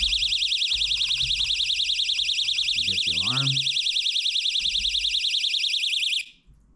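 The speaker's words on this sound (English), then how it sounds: "When you get a bite, you get the alarm." Ice fishing tip-up bite alarm, a loud, shrill electronic buzzer warbling steadily for about six seconds before cutting off, with a voice speaking briefly underneath.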